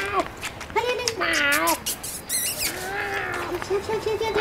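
A voice imitates a hungry cat, stretching out a run of whining, pleading meows with rising and falling pitch, loud and close, mixed with short speech-like bursts.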